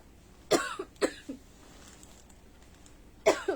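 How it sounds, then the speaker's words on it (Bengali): A person coughs indoors in a clothing shop: two sharp coughs close together, a short follow-up, then another cough after a pause, all near and clear against a quiet background. "সেই কাশি শুরু হলো"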